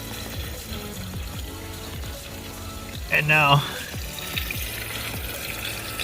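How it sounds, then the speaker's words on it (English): Rainwater drains out of a roof eaves trough outlet with a steady trickling, gurgling flow, fairly faint, while a person talks briefly over it. "you see all the water's draining out now."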